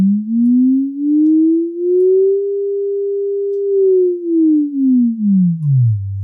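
A pure synthesized sine tone from a homemade oscillator built in Max/MSP glides smoothly upward, holds steady, then slides back down into a low buzz, loud and alone with no other sounds.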